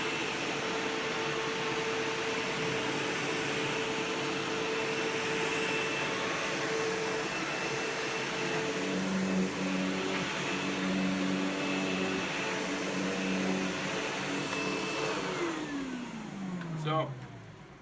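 A SEBO Automatic X4 upright vacuum cleaner runs close by with a steady, loud motor whine and broadband airflow rush that holds throughout, then winds down sharply near the end.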